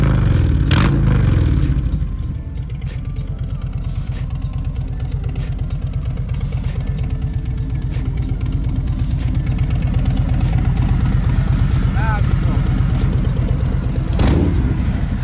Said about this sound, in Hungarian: az elengedhetetlen Harley Davidson hang